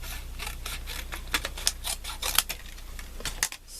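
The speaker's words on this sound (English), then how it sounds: "Okay, so let's cut a strip" Scissors snip a strip of craft material for a Halloween gnome, a run of close, crisp cuts with short clicks and pauses between them, no talking.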